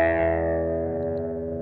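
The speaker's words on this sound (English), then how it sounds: "have the third pitch shifter an octave down, which gives it that kind of octave feel, makes it a lot heavier guitar tone" A heavy, distorted electric guitar chord is processed through a pitch-shifter pedal set an octave down, sustaining thick and loud, then slowly decaying on its own.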